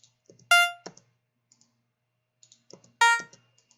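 Two short synth test notes on a Bosca Ceoil software instrument ring out about two and a half seconds apart, each a bright harmonic tone with a quick attack and fast decay, with soft clicks between them.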